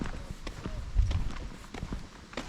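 Horse hooves clip-clopping on a forest track on an estate walk, a few irregular near thuds under wind and movement noise, with a voice briefly heard.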